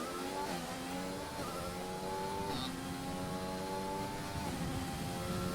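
McLaren race cars in a racing video game on the Singapore circuit, engines whining steadily with several upshifts at a moderate level.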